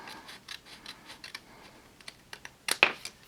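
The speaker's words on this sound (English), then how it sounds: "I'm going to use my little precision scissors for this" Small precision scissors snip paper in quiet, close little cuts, scattered irregularly and then ending in a few sharper, louder snips.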